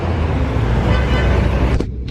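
Taxi cars pass along a busy Cuban city street, giving a continuous rumble of nearby road traffic that cuts off abruptly at the end.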